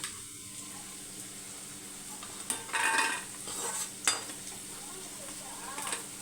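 Meal maker soya chunks frying in a pan, a soft steady sizzle with a few louder stirring scrapes and clatters, fairly quiet and close, no voices.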